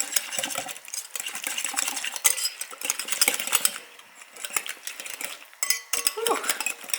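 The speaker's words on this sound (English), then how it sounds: "And then I'm just gonna whisk this all together." A whisk beats a horseradish meatless-meatloaf mixture in a bowl, with bursts of quick metallic clinking and scraping close by, broken by brief pauses.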